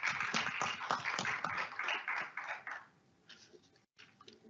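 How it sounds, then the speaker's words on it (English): An audience at a Montgomery County Black History Month program claps for a speaker, steady applause that fades out after a few seconds, with a few faint scattered claps afterward. "let's give him a round of applause"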